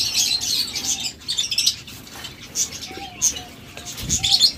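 King quail in a breeding setup give soft, high chirping calls in several short bursts over a steady background hiss, with a few brief low thumps from the enclosure.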